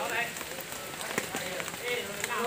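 Rain patters steadily on surfaces high up in the countryside, a dense hissing wash with scattered sharper drops and brief rustles, close and moderately loud without talk.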